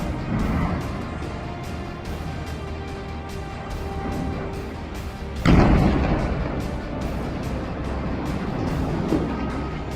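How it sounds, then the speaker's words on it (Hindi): Gaza combat fighting with gunfire and blasts: a sustained rumbling din of distant shooting and engine-like roar, punctuated by one heavy explosion boom midway, loud and continuous with no talk. "तूबस ब्रिगेड द्वारा जारी किए गए इस वीडियो में एक भीषण गोलीबारी को देखा जा सकता है।"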